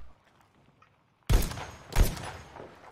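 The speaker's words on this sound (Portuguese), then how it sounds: "Tô trocando tiro com eles aqui." Two sharp, loud bursts of gunfire about half a second apart break a near silence, each trailing off quickly, in the Battlefield V battle royale mode.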